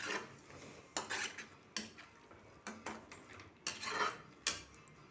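Boiled mutton tipped into a pot of mutton kulambu, with soft clattering pot and spoon knocks in an irregular series of close, fairly quiet bursts.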